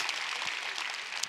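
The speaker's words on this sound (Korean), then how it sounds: "박수 한번 주십시오" A seated audience at a Korean lecture talk on working with AI gives a short round of applause. The clapping is brisk and continuous, with scattered louder claps and no voices over it.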